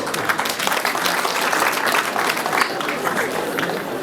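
Wedding guests applaud at a traditional Rwandan wedding, a steady wash of clapping from a crowd that runs the whole time at a fairly loud, even level.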